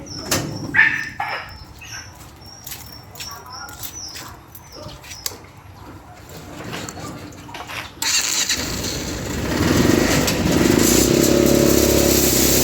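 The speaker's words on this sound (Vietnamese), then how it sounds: "Đó, máy chạy rất im nha." An old three-wheeled motorcycle cart engine runs steadily, first faint under scattered knocks and clatter, then louder and rougher from about eight seconds on as the engine is revved up close by.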